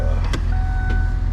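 A Kia car's engine idles steadily just after starting on a cold morning in Omsk, a low continuous rumble with a faint whine and a couple of brief clicks over it.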